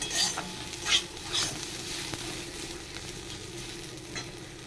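Spices being stir-fried in a pan for a prawn and pointed gourd curry, a low steady sizzle with a few quick scraping stirs near the start, close and moderately quiet, no talking.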